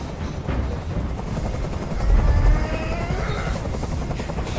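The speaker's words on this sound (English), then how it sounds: "Tell that helicopter to get out of here." Loud helicopter rotor thumping and engine drone in the video game Detroit: Become Human, steady throughout and swelling briefly near the middle, with a faint whine above.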